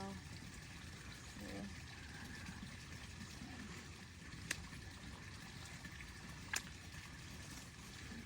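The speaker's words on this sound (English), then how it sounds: "I wonder if the sound of the creek is coming through the phone." A small winter creek trickles and flows steadily beside an orchard where young trees are being pruned, a faint continuous watery rush with a couple of sharp clicks and a voice talking briefly.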